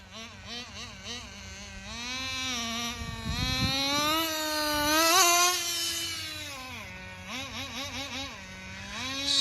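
A small nitro engine on a CEN Racing CT RC truck starts and runs, a loud buzzing high-pitched whine that climbs and falls as the throttle is blipped, close and steady with revving surges.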